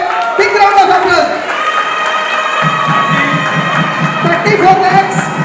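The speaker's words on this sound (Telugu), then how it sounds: "Big round of applause." A crowd at a Ganesh laddu auction claps and cheers throughout, a continuous roar of applause mixed with shouts beneath loud amplified voices.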